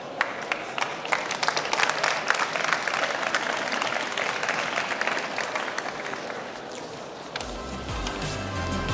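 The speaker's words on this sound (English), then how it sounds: "So please, make an applause for 3 amazing guests this afternoon" Audience applause at a ChangeNOW panel on sport sponsorship, greeting three guests with dense, steady clapping that holds throughout and thins slightly near the end as a low rumble comes in.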